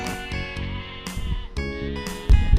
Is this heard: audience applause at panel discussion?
no